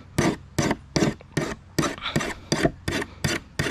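A wooden opossum-hunting spear, or jig, being sharpened with about ten even, rhythmic rasping strokes, close and distinct with short gaps between them.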